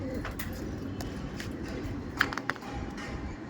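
Rampuri Kalanch pigeons cooing at a pigeon market, soft low coos under steady background crowd noise, with a couple of brief sharper sounds.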